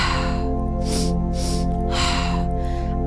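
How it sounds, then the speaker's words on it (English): Breathwork breathing: two nasal inhalations into the belly followed by a released exhale through the mouth, close and clear, with broadband airy bursts repeating over a steady low hum and no talk. "2 breaths in through the nose, breathing at the belly and releasing through the mouth"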